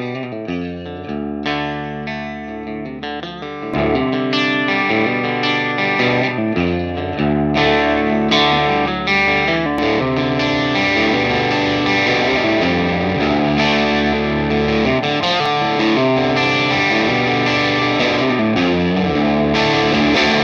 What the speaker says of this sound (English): using something like a clean boost will help you cut through the mix